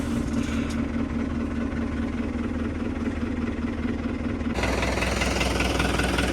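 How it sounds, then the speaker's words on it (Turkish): A Türk Fiat TD100 tractor engine idles steadily nearby while warming up, with a low, chugging rumble, growing slightly louder and brighter toward the end. "Traktör biraz ısınsın."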